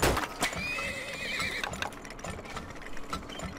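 Horses neigh in the Turmoil video game: a loud whinny with a wavering trill rises over a dense, busy game soundtrack, with clip-clop hoof beats and mechanical clatter underneath.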